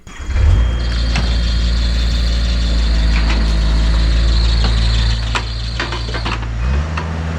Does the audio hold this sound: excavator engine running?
yes